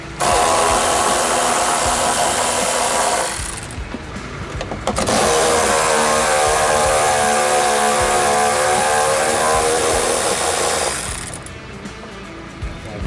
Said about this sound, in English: I'm using a 3/8 ratchet